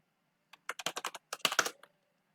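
Fast bursts of typing on a computer keyboard as a MySQL query is entered, a quick run of close, crisp key clicks in two clusters with a short pause between, alone and without talk.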